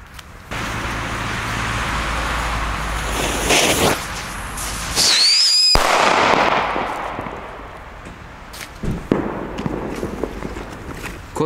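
A shrill, wavering whistle rises for about a second, then a sharp firecracker bang cracks out, followed by distant outdoor rumble and scattered pops; a Pyrofactory Scream whistling firecracker with a lead fuse.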